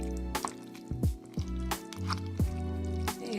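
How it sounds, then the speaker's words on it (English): Cooked macaroni being stirred into a cheese mixture in a pot, giving several wet, sticky squelches and soft clicks at an uneven stirring rhythm, close and fairly quiet. "Now we're just going to mix it until it's well combined."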